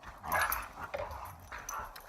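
Indoor dogs whimper in short, high, nasal whines that repeat several times, close by and fairly soft, with no talking.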